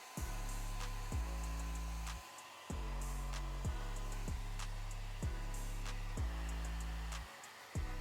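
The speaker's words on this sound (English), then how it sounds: "I'm gonna heat up the glue to activate it" A heat gun warming glue on a Yeezy 350 sneaker toe box, a loud steady blowing hum with rhythmic pitch shifts that cycle every second or so.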